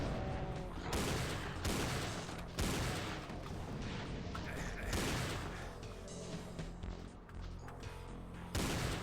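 Enemy gunfire in the shooter Doom 2 crashes out in dense, loud bursts, broken by short gaps, with booming impacts filling the whole stretch.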